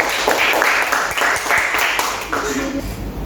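Classroom of students applauding a quiz winner at a vocational school, rhythmic group clapping in regular bursts with voices mixed in.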